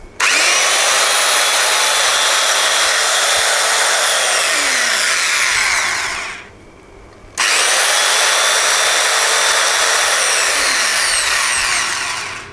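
An electric dowel jointer, set to a 4 cm drilling depth for wood joinery, runs at full speed with a loud, steady high-pitched whine, winds down and stops for about a second, then starts up again and keeps running.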